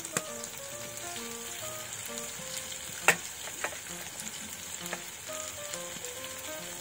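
Vegetables frying in oil in a pan, a steady close sizzle with scattered pops and crackles, alongside faint tonal background music and no talking.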